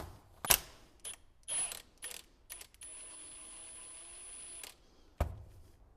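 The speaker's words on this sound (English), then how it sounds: "now with a flathead screwdriver, we're gonna go ahead and take these screws out." A flathead screwdriver clicks and scrapes against screws on a Puch ZA50 moped motor, with sharp metallic ticks, a sustained whining scrape and scattered clinks, close up and quiet with no talk.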